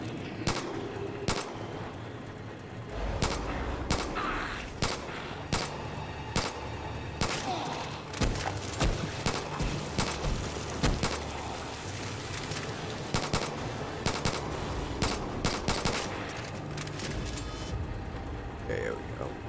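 Rapid gunfire from shooting in the video game Far Cry 5, with dense bursts of shots cracking over a steady engine-like rumble, loud and continuous throughout.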